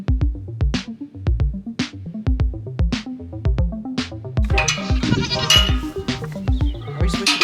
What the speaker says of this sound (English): This is Percy, he's a 3-year-old billy goat.